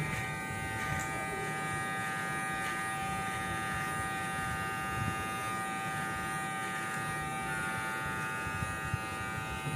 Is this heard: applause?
no